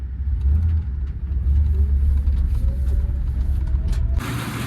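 A 1992 Cadillac Brougham hearse with transmission problems rolls around the block, its low engine rumble steady and close from inside the cabin, ending in a brief noisy shift near the end.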